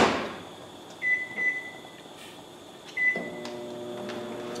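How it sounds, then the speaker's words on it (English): A microwave oven heating Alfredo sauce: a few short beeps from the keypad, then the steady low hum of the oven running, close by with no voices. "Yeah, I'm using the microwave."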